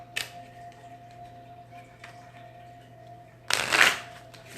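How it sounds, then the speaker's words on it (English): Oracle cards are shuffled by hand in a quiet room: a short riffle at the start, then a louder, longer burst of rapid card shuffling near the end. "Let's shuffle for Gemini."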